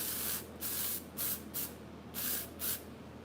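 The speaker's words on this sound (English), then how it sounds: "I'm just going to spray the sides with undone texture spray" Several short hissing bursts from an aerosol texture spray onto hair, in quick irregular puffs, close and fairly soft, with no talking.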